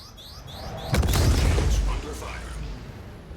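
Heavy booming blasts as torpedoes hit a ship in a space combat video game, a dense rumbling explosion roaring for about a second over faint electronic game sounds.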